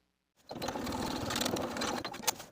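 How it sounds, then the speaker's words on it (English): A sewing machine whirs into a steady, fast stitching rattle after a brief silence, sewing a dress sleeve closed, running continuously and close up with no talking. "take the sleeve to your sewing machine to sew closed the gap in your stitches"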